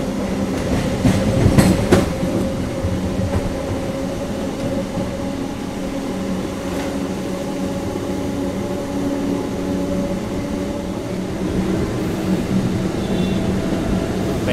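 A MEMU commuter train runs from Hosur towards Bengaluru and Banaswadi with a steady, loud rumble inside the coach, a low hum and a few rhythmic clicks over the rail joints.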